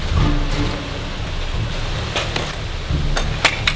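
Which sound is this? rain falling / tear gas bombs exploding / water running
rain falling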